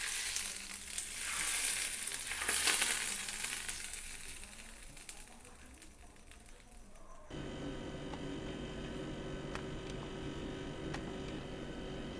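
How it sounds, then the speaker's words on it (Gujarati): Hot ghee with cumin seeds is poured over cooked rice, setting off a steady, close sizzle that runs the whole stretch, shifting to a denser, brighter hiss partway through, with no talk. "હવે આપણે જે ભાત બનાવ્યા એના ઉપરથી આ ગરમ કરેલું ઘી અને જીરું નાખી દઈશું."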